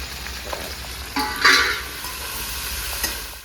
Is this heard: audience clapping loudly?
no